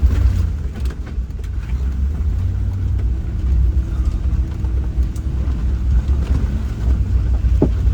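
A 2024 Land Rover climbs a rough, slippery off-road trail at a rally, its engine a steady low rumble buried under constant heavy wind buffeting on the microphone, loud and continuous throughout.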